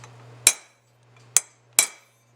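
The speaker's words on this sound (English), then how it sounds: "I take a chisel and flatten out the end of it" Three sharp metallic strikes of a hammer on a chisel, flattening the raised end of a small casting, spaced unevenly over a low steady hum, close and loud with quick decays.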